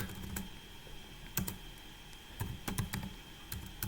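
Sparse, soft keyboard taps and clicks at an uneven pace over a steady background hum, fairly quiet and close.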